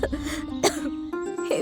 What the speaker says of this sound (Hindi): मोड़ पर पहुंचते ही वो रुकती है और खांसने लगती है।